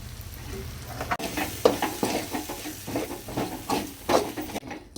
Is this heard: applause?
no